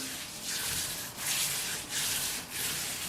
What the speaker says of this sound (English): We'll just massage this into the meat as well.